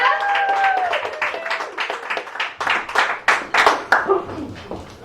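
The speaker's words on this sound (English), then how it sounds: "let's give a big round of applause to Sylvia" Audience at a book launch clapping for the author: sparse, uneven handclaps, some near and sharp, rising into a bumpier round of applause, with a voice and tonal sounds heard early under the claps.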